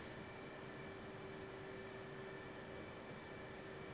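F/A-18 Hornet jet engine idling on the ground at Nellis in a flight simulator, a steady broadband roar with a constant high whine, unchanging and continuous throughout.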